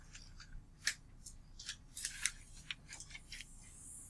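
Scissors snipping off small excess pieces of folded paper for a math journal page, a series of short, crisp, irregular cuts fairly close up with no talking.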